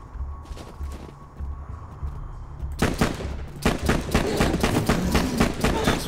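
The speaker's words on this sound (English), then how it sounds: "Try big old explosive shots." Explosive gunshots from a weapon in the video game Borderlands 2 burst out in a rapid, loud volley after a quieter start, each shot cracking sharply in quick succession.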